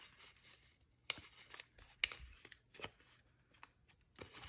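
Paper being creased for a heart-hands Valentine craft, with several sharp, close crackles and crinkles as folds are pressed along an edge, spaced irregularly over a quiet background.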